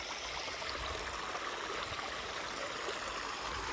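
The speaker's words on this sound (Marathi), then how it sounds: "उसावर पाणी सुरू झालंय पाणी सोडलंय भिजवायला" Irrigation water runs steadily onto a sugarcane field on a farm, a continuous, even rushing flow close by with no pauses and no voices.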